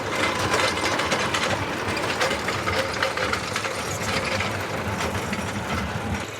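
Struck MH4900 mini dozer with a Honda gasoline engine and a six-way blade, running steadily with a continuous mechanical clatter and engine drone, close and fairly loud throughout.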